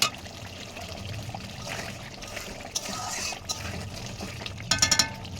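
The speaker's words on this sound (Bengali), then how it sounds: "তেলটা ছেড়ে দিই" Cooking oil being poured into a pan for a jackfruit curry, a soft steady liquid trickle and pour with a few faint clinks near the end, close and fairly quiet.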